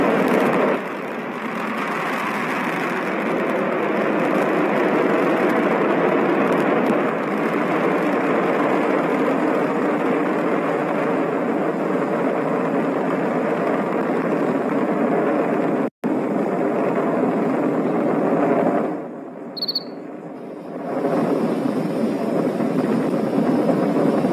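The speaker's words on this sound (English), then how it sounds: "Our Falcon 9 has launched." A SpaceX Falcon 9 rocket lifts off on a cargo resupply mission carrying new solar arrays to the International Space Station, its loud, steady broadband roar running almost unbroken for over twenty seconds, with a brief dip near the end.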